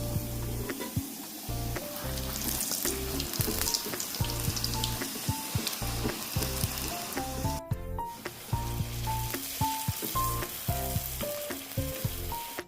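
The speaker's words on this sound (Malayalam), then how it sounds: "ഇതിലേക്ക് നമുക്ക് പരത്തി വെച്ചേക്കുന്ന ഭൂരി ഓരോന്നായിട്ട് ചുട്ടുപോരാം" Puri frying one by one in hot coconut oil gives a continuous crackling sizzle with bubbling bursts and brief stirring or handling noises, close and alone without speech.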